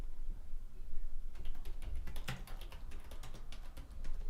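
Someone types on a computer keyboard, quick close clicks and clacks starting after a moment of quiet and running in uneven bursts over a low room hum.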